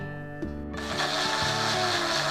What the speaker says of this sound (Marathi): आता मी मिक्सर लावून घेते.